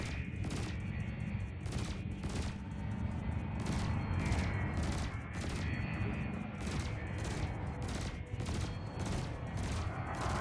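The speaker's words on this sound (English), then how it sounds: "You learn to use your burst lasers to strip shields and your multi-cannons to defeat armor." Burst lasers and multi-cannons fire in the Elite Dangerous space game, a steady run of rapid repeated shots and bursts over a low rumbling background, sustained throughout.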